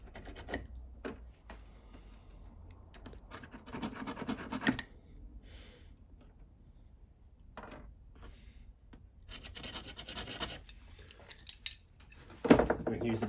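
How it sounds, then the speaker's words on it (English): A craft knife cuts model railway track on a layout baseboard, giving close scraping and scratching strokes in irregular clusters with quiet gaps, plus a few small knocks and clicks. "I'm going to use a craft knife"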